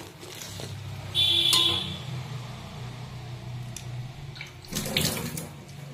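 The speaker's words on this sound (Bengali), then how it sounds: "এখন আমি ট্যাঙ্কিতে জল ভরে নেব" Water runs steadily from a tap into a household storage tank, a constant close rush with brief louder splashes near the start and end.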